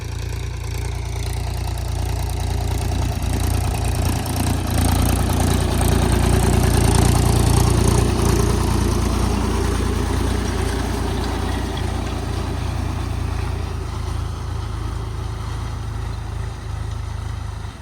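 A tractor engine idles in a farm field at dawn: a steady, close, low rumbling drone that holds an even level throughout, with no talk over it.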